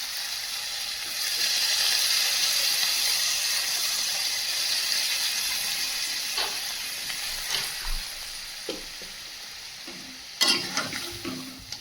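Hot prawn masala in a pan surges into a loud, steady hiss and sizzle as water goes in, then settles into a quieter bubbling simmer broken by a few sharp clinks of a spoon against the pan.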